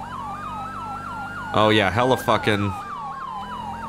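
A wailing emergency siren cycles steadily in the distance through a prisoner transport scene, its repeating rise-and-fall sweeping throughout while someone speaks briefly over it in the middle.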